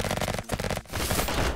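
Automatic gunfire from an Uzi or MAC-10 in a video game, loud rapid bursts broken by a brief gap, with dense crackling shots throughout.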